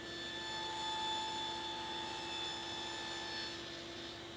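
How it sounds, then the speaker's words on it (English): A table saw fitted with a stacked dado set cuts through a wooden divider for a kitchen drawer organizer, giving a steady, continuous whine and rasp that holds level for several seconds. "cut all the way through this divider with the stacked dado set"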